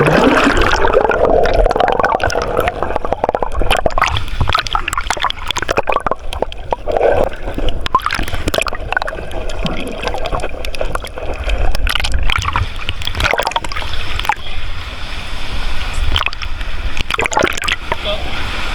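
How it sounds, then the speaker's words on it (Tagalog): Strong waves surge and splash around a sea cave entrance at a Siargao swimming spot, churning water sounds rising and falling over the whole stretch with occasional voices in the background. "Ito Ang lakas ng alon mga boys."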